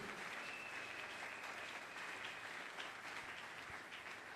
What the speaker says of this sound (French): Acclame très fort pour la gloire de Dieu.